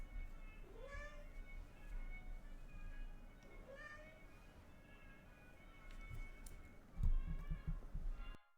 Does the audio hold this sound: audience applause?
no